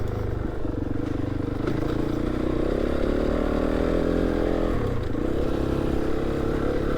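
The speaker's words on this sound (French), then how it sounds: "Alors là la moto est vraiment très à l'aise dans ce qu'on vient de faire." A rally motorcycle on a rough trail, engine humming steadily up close with changing revs, along with rattles and scrapes from the bike and terrain throughout.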